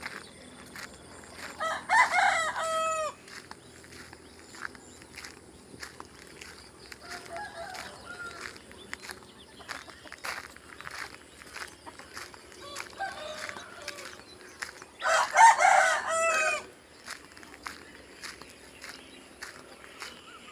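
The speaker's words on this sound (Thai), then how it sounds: "นี่ไก่มาใหม่ลอยงามๆครับ" Two long, high crows from a young rooster, about three months old, ring out near and loud a few seconds apart over quiet farmyard ambience with faint footsteps and clucking.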